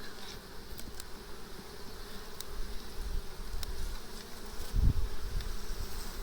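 Carniolan bees buzz steadily as a low, continuous drone with a busy outdoor hum around them, growing slightly louder toward the end.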